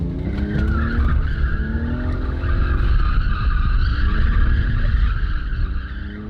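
A car drifting on a track with tires skidding in a long continuous squeal over a steady engine roar, loud and close throughout.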